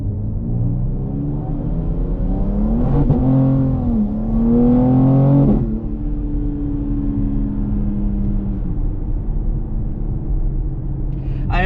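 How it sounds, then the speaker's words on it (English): An ADRO M4 Competition car revs hard and accelerates with rising engine pitch and tires spinning, then settles into a steadier cruising drone, loud and close from inside the car. "this car just lights the tires up like instantly."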